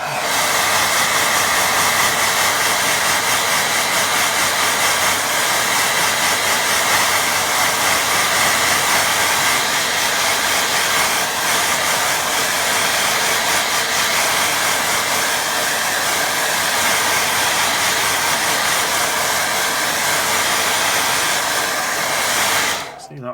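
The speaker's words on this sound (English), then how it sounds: "I'll get another blast with the dryer." A hair dryer blows steadily and loudly on watercolour paint for over twenty seconds, a constant breathy roar that cuts off abruptly at the end.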